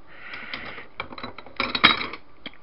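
Bicycle brake calipers and handlebar stems are shifted around inside a box, giving scattered metallic clinks and rattles in short irregular bursts, fairly quiet and close by.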